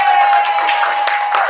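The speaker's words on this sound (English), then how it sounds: "We're gonna, wave and y'all can clap out there." An audience applauds poets on stage at a live performance, a dense, continuous wash of clapping and crowd noise that fills the space, with a steady tone running underneath.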